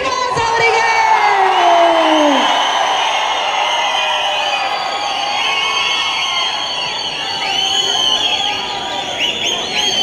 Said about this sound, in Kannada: ದಯವಿಟ್ಟು ಜೋರಾದ ಚಪ್ಪಾಳೆ ಬರಬೇಕು